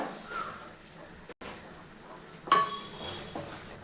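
Semolina and carrot being stirred in ghee in a pan give soft, faint scraping and a single brighter clink of a spoon against the metal midway.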